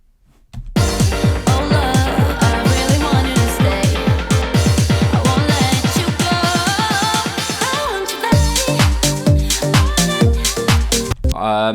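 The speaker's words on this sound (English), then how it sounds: "we've then got this snare crash build" House drum build with a snare roll repeating and speeding up under a crash cymbal, kick and synths, loud and continuous, the snare hits tightening into a rapid stutter before the drop.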